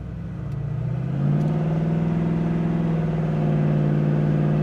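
A 1970 Ford Mustang Mach 1 engine revs up and accelerates with a steady, loud rising hum, holding a strong low drone throughout with no voices.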